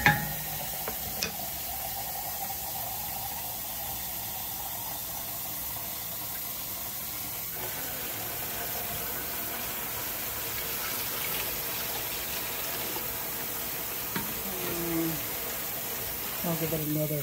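Liquid is poured steadily into a pot of beef pho broth, a continuous watery gush and stirring wash running throughout, with brief clinks and a voice speaking now and then over it.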